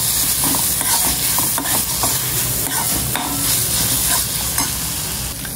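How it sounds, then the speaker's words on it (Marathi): Ginger and garlic fry with onion in a hot pan, a steady close sizzle broken by repeated scraping and stirring clicks, with no talking. "आता आपण ह्याच्यामध्ये थोडंसं आलं लसूण टाकूया, आणि आलं लसणाचा जो कच्चा वास आहे तो निघून जाईपर्यंत भाजून घेऊया त्याला।"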